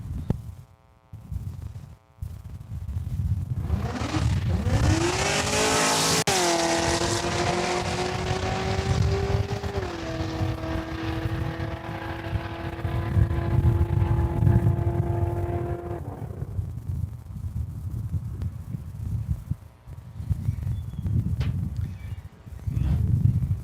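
A 2013 Honda Civic Si with 200 horsepower drag races a Corvette C6 on a strip. A loud engine roar climbs through the gears in rising sweeps, holds near the line, then fades into rumbling track background.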